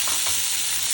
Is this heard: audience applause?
no